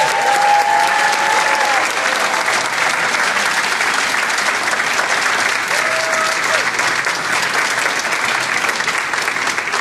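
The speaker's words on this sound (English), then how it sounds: "I want you guys to applaud again." An audience at a social media training event applauds at length, a broad, constant wash of many hands clapping, loud and unbroken, with brief whistles or cheers rising above it.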